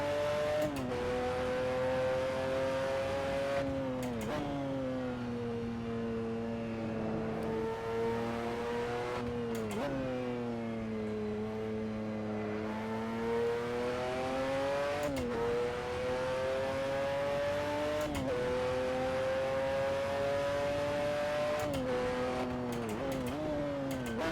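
A McLaren F1 GTR race car in Assetto Corsa laps the Nurburgring, its engine howling loud and close, climbing in pitch through the revs and dropping sharply at each of several gear changes, with no talk over it.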